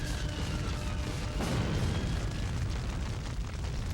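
A cargo plane exploding in the PS2 game Gungrave Overdose, heard as a continuous heavy roar of blasts with a fresh burst partway through, loud and dense throughout.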